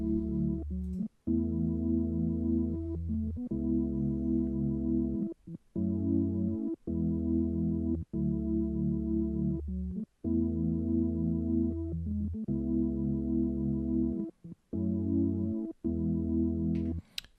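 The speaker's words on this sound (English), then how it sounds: "So this is just an organ preset," Juno 60 plugin organ preset with chorus plays sustained chords in a steady rhythm, each rich held chord cut by brief gaps, loud and alone with no talking.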